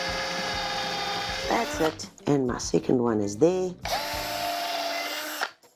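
A power drill whines steadily drilling pilot holes in timber, stops while someone speaks briefly, then spins up again for a second burst close by.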